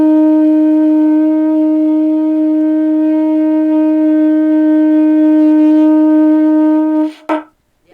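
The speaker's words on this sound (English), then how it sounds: "This horn is made out of shell." A steady, loud conch shell horn tone with a rich buzzy harmonic timbre holds for about seven seconds, then cuts off with a brief sputter.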